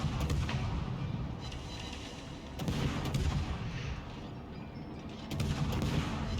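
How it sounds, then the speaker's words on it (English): Heavy gunfire from the Bismarck battleship in a naval video game, booming salvos rumbling in the distance, with louder thuds near the start, at three seconds and again near the end. "Now the Bismarck is shooting at me right now."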